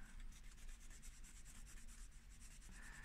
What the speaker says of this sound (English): rub the primer back